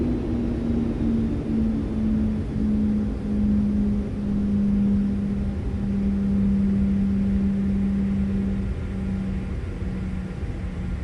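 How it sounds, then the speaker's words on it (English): A simulated Airbus A330-200 jet engine in Microsoft Flight Simulator 2024 spins down, a steady low hum sliding gradually lower in pitch over a continuous broadband rumble, heard alone at a constant level without talk. "engine number 2 is off. Listen to the spool down."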